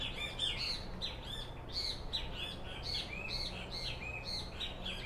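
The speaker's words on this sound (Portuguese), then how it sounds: "os pássaros cantando aqui no nosso Jardim da Bênção" Several birds sing in a garden, with overlapping high chirps, tweets and squawky calls repeating steadily at moderate distance over a quiet background, no talking.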